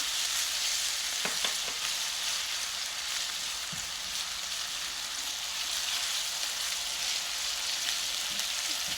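Ginger garlic paste frying in a pan makes a dense, steady hiss with fine crackle, close and constant, with only a couple of faint utensil taps.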